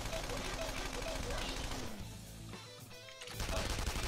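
Video game gunfire from Persona 5 Royal, a dense burst of shots finishing an attack over busy game music, fading briefly before the music swells back.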